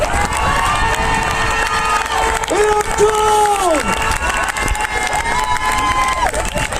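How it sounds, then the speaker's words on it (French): A large crowd at a pension reform protest march in Toulouse cheers, shouts and claps continuously, with voices rising and falling in long calls over steady applause. "On peut les applaudir bien fort."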